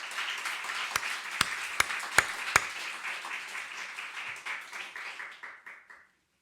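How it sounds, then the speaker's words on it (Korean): A church congregation claps together, a dense patter of hands with a few sharp louder claps early on, fading out toward the end. "믿어지기들 박수 한번 쳐보세요."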